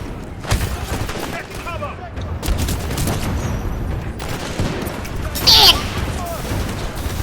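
Gunfire and explosions from the video game Titanfall 2 rattle in bursts, with a sharp loud blast near the end, while a player talks excitedly over the action.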